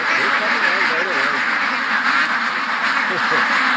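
A flock of ducks quacks over and over close by in a swamp, a busy, continuous chatter with a person talking over it.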